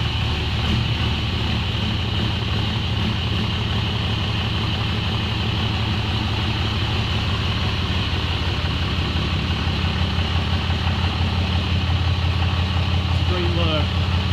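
Engine of a 2015 Ram Mega Cab pickup truck idling steadily and loudly at close range, a constant low rumble throughout with a voice speaking over it.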